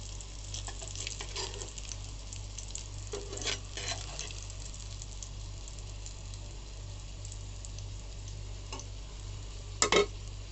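Eggplant slices frying in a pan give a steady, close sizzle with a constant hum underneath, broken by a few light clinks and stirring scrapes, one of them sharper near the end.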